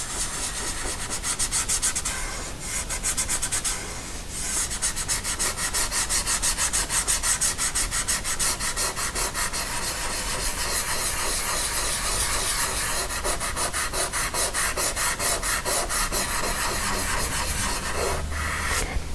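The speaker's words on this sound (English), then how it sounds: "now I'm gonna go in with my fingers again. You can see the color of them. And smudge." Fingers smudge soft pastel across paper in a continuous close-up rubbing hiss, steady and dry with brief pauses, heard alone without talk.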